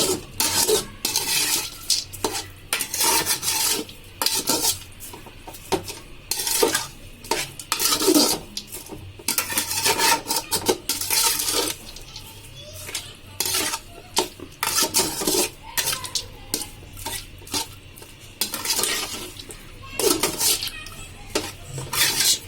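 Sugar being stirred into jorda semai, sweet vermicelli, in a pot with bay leaves: a steady, close scraping and clinking of a spoon against the metal pot, repeated in busy bursts, with a faint sizzle underneath and no talk.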